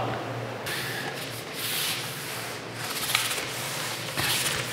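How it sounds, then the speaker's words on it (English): A brush scrubs hard across a mildewed drywall surface, a steady close rasping and rubbing sound in uneven back-and-forth strokes. "Give it a good scrub."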